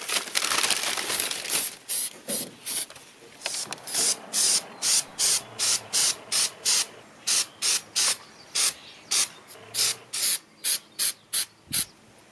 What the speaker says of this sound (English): So I just sprayed some of this chip guard on the back of this fender